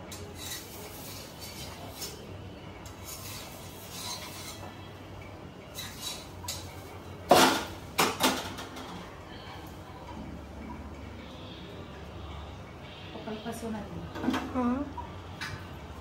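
Ragi flour being mixed in a bowl for nachni bhakri gives soft scraping and stirring with scattered utensil clinks and a few sharper knocks midway, heard beneath a person talking.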